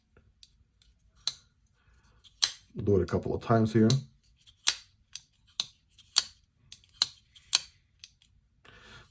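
A Divo Growler V2 folding knife is flicked open on ball bearings, giving a series of crisp, close mechanical clicks at irregular intervals, with a short stretch of someone talking partway through.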